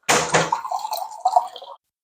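Filtered water pours into a pot of carrots, a short close splash and burble lasting under two seconds, then silence.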